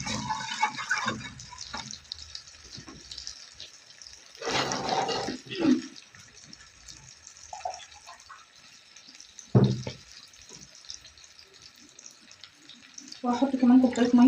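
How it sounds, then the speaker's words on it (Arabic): About half a cup of vinegar is poured into a pot while making Egyptian koshari, giving short splashing, trickling pours separated by quiet stretches. "هجيب الخل واحطه كده نص كوبايه او كوبايه الا ربع"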